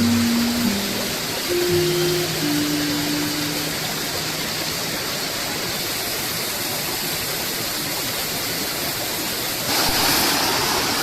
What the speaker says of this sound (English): here we have what appears to be an overflow coming straight down into the river